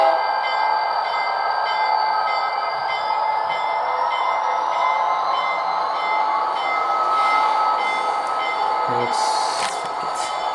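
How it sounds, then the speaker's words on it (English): An HO scale Bowser CP GMD SD40-2F model locomotive runs steadily nearby, a continuous motor whir with light wheel noise and faint squeals, a brief clatter near the end. "Let's get the train going."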